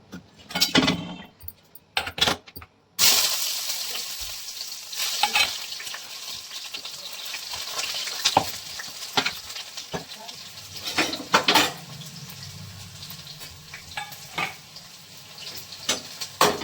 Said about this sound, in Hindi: तो यहाँ पर मैं बनाने छोंक रही हूँ कुंदरू की सब्जी।